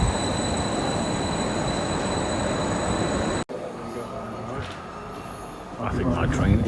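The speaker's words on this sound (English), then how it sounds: "I think my train is coming." A loud, steady rail rumble with a high whine fills the first half, then quieter station ambience follows as a Greater Anglia train to Norwich approaches, with voices nearby.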